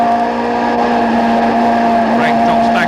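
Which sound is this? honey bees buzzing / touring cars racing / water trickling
touring cars racing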